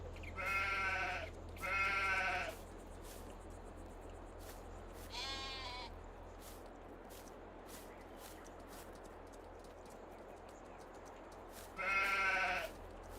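Sheep bleat in Farming Simulator 22, four separate calls spaced out across a quiet outdoor pasture with a low ambient hum, each bleat clear and fairly close.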